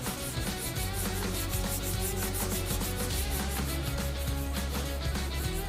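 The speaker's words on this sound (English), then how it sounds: "I'm actually sanding at this point with 320 grit, just to kind of block it down" Hand sanding of U-POL Dolphin body filler with 320 grit sandpaper while block sanding, a close, steady, rhythmic back-and-forth rasp of repeated strokes.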